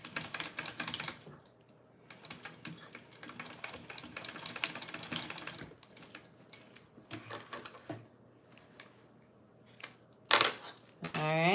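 A sewing machine stitches along the ends of a fabric wallet at a 3/8 inch seam allowance, running in rapid mechanical bursts that stop and start, with a voice speaking briefly near the end.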